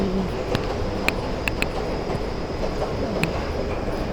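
An MRT metro train rumbles past steadily, with sharp metallic clicks and clacks from the wheels at irregular intervals over the constant roar.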